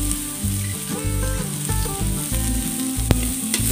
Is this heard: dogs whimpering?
no